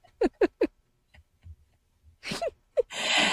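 A series of quick vocal bursts, three short puffs then a louder sneeze-like blast ending in a long breathy hiss, fairly close with no talk.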